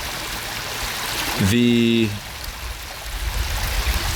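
A creek flows with a continuous bright rushing and trickling of water throughout, briefly overlapped by a short tonal voice sound in the middle.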